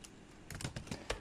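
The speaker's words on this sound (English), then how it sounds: "we have to hit tab in our keyboard, and then let's type out" Typing on a computer keyboard during data entry: a quiet, quick run of several sharp key clicks in an uneven rhythm, close by and alone, with no voices.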